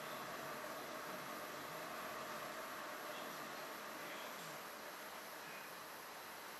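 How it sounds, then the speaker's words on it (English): Steady electric fan whirring in a hot room, a constant faint broadband hiss and hum with no change across the stretch and no speech over it. "If you can hear the noise in the background, it's the fan"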